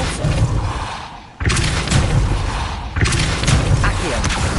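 Spell-casting in Hogwarts Legacy on PS5, two heavy booming blasts a second or so apart, loud and close, each with a rushing whoosh and rumbling tail.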